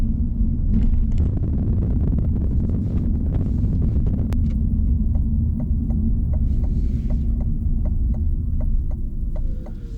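Inside a 2026 GMC Sierra EV AT4 electric pickup on a rough road, a loud, constant low rumble and hum fills the cabin, with a few bumps early and a steady run of turn-signal ticks in the second half.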